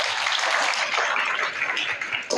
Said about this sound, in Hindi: इनके लिए आप लोग तालियां बजाइए